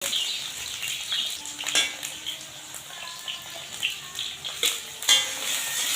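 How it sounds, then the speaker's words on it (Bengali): Potatoes frying in a wok with salt and turmeric give a steady, moderate sizzle, broken by occasional clinks and scrapes of a utensil against the pan. "আমি প্রথমেই আলুটা কড়াইতে দিয়ে দিচ্ছি। আলুটা ভাজা, মোটামুটি ভাজা পর্যন্ত অপেক্ষা করব।"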